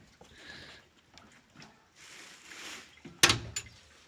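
A door or gate with a lock being worked, soft rattles and creaks leading to a sharp loud metallic bang near the end, followed by a smaller knock, fairly close.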